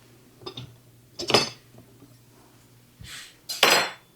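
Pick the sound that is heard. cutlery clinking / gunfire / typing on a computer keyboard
cutlery clinking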